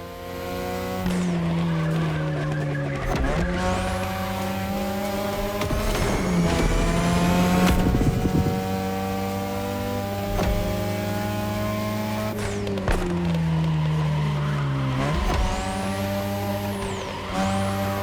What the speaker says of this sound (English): Tonight your ride is a 3rd Gen 2002 Mazda RX-7. Lightweight, compact, a sick rotary engine, and one hell of a look.